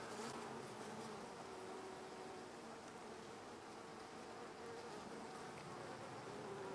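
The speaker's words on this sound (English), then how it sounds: "You get a lot of bees here" Bees buzz steadily around beehive nucs, a faint, dense hum of many insects close by with no talk.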